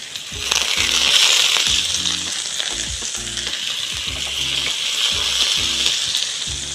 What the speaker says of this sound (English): We are here grilling it on tawa.